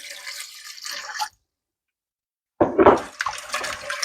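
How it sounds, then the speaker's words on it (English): Water pouring into a pulled pork (gammon) mixture, a splashy trickle that stops, then resumes in a louder gush after a silent pause. "next we're just going to add some water"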